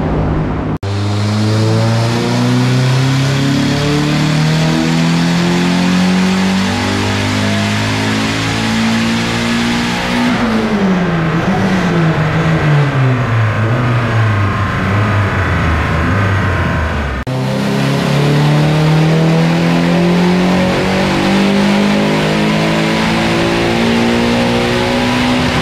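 A turbocharged Nissan Sunny engine revs hard and continuously with its turbo boost raised during tuning, climbing in pitch, easing off briefly midway, then surging loud again, with no talking.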